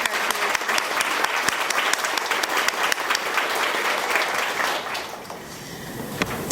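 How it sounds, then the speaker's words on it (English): Audience applause at a teachers' awards ceremony: dense, steady clapping from a large crowd that carries on without a break, then thins a little near the end. "but we can applaud you again."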